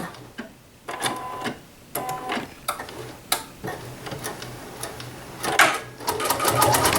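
A home sewing machine runs steadily while stitching a holly quilting project with matched top and bobbin thread, its rapid mechanical ticking broken by short pauses and restarts, close and clear.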